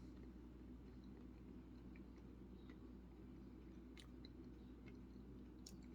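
Quiet, close-up chewing of a soft-baked chocolate chip muffin bar with sugar crystals, soft crunches and occasional crisp clicks over a low steady hum, no talking.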